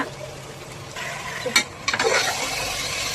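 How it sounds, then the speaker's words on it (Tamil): Marinated chicken tipped into a pan of sautéed onions and tomatoes, with a soft background sizzle and then a sudden burst of louder frying and stirring as the meat goes in. "இப்போ நம்ம ஊற வச்ச சிக்கன் எடுத்து அதில் போட்டுக்கலாம்"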